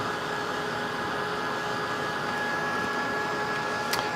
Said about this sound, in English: I'm just going to go ahead and heat this real quick, just to make sure it's good and dry